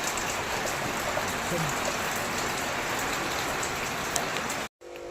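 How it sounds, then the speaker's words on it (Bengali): Steady rain falls on surfaces in a cool, damp morning, a dense even patter throughout with scattered drips, cutting out abruptly near the end. "আবার বৃষ্টি নেমে গেছে, মাঝখানে একটু অফ হয়েছিল, আবার নামলো।"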